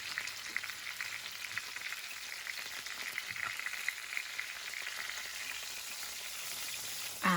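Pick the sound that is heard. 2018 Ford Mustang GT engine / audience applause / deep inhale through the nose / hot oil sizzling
hot oil sizzling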